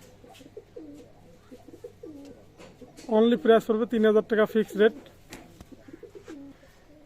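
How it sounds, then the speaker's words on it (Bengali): A pair of Pakistani pigeons coo in a loud, rhythmic burst of throaty calls lasting about two seconds, with someone talking before and after. "বিয়ার্স একজোড়া কবুতর আছে"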